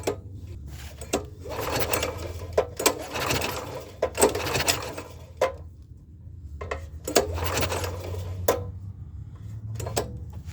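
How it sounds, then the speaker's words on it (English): A Predator 224/212 small engine, set up with max performance parts and non-hemi heads, is turned over by hand several times, giving repeated mechanical clicks and rubbing pulls in an uneven rhythm, close and fairly loud, with no talk. "We'll spin that motor over a few times, get it back on top dead center"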